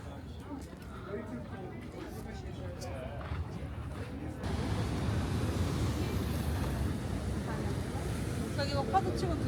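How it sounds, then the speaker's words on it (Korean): Steady Atlantic surf roars nearby on Madeira, Portugal, a continuous wash of waves that swells louder partway through, mixed with wind noise against the microphone. "이런데 파도 막 넘칠 수도 있어."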